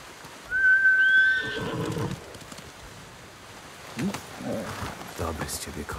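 A horse in the Ghost of Tsushima video game lets out a loud, ringing whinny near the start, then snorts and shuffles while faint rain-like ambience runs beneath.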